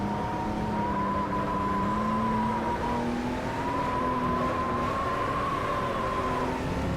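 In the rFactor racing game, a Honda NSX's engine drones loud and steady with a six-speed gearbox, its pitch sliding up and down as the car accelerates and shifts, with no one speaking.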